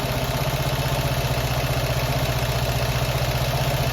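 A classic Fiat 500 engine idles steadily at about 890 RPM during setup, giving a loud, even, throbbing low rumble that pulses rhythmically and never changes.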